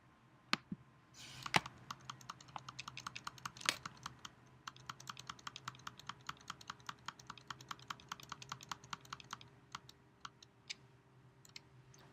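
Typing on a computer keyboard produces a quiet, steady run of individual key clicks, with brief pauses and a few heavier strokes, and no one talking.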